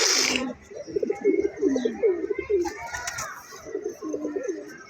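Pigeons in a small loft coo in repeated low throaty bursts close to the listener, with brief higher chirps and a sharp noise at the start breaking into the rhythmic calling.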